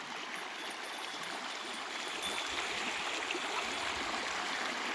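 A village river among farm fields rushes steadily in a continuous, even hiss, with no voices.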